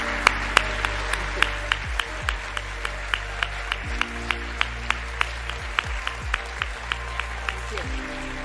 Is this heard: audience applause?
yes